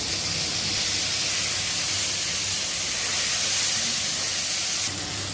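Garlic, ginger, shallots and tomato sautéing in a pan with salt, giving a steady close hiss of frying that holds level throughout and drops slightly near the end, with no voices.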